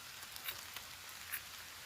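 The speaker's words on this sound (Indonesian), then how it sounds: "mumpung suasana masih kemericik gerimis" Light drizzle patters steadily at a rural campsite, a soft continuous hiss broken by a few faint, close droplet taps, with no voices.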